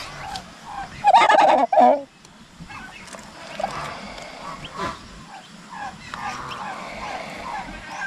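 A turkey gives one loud, close burst of gobbling on a backyard farm among ducks and newly hatched chicks, followed by quieter background bird calls while a person talks.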